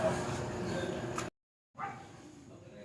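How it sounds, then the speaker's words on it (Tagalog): A dog barking close by in a provincial home, loud yaps with a brief cut of silence in the middle before the noise resumes, with voices in the background. "Napakalakas naman ng tahol ng aso na to."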